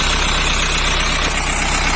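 A tow wrecker truck's engine idles in a steady, loud, continuous rumble, close by and without any talk over it.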